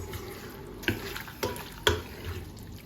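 Meat for kavurma stirred in a pot, three distinct clinks of the utensil against the pot over a faint, steady background of gentle sautéing.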